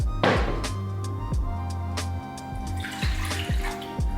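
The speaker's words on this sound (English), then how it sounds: "And then we're gonna pour it into our big bowl." Liquid poured into a big mixing bowl during home baking of pretzels, a steady loud splashing gush with a few hollow thunks against the bowl, close up and without talk.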